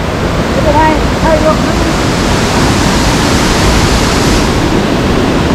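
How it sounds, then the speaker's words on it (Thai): Wang Thong waterfall on Phu Kradueng in Thailand: water pouring down in tiers makes a loud, constant, close rushing roar that fills the whole span, with a faint voice briefly audible beneath it. "นี่คือบรรยากาศน้ำตกวังทองนะครับ สวยเลยทีเดียว"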